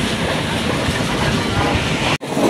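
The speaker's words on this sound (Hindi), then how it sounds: "अब अल्लामा इकबाल एक्सप्रेस पास हो रही है लांडी रेलवे स्टेशन के पास से।" The Allama Iqbal Express rumbles past close by near Landhi railway station in Karachi, a loud continuous roar of wheels and wagons with a brief sharp dropout near the end.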